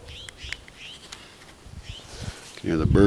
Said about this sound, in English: there's a lot of really cool birds that live here